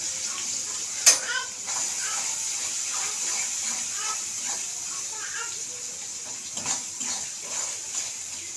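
Chopped onion and bay leaf frying in hot oil in a home kitchen while chicken biryani is being made, a steady close sizzle with a few sharp clinks, under a voice talking.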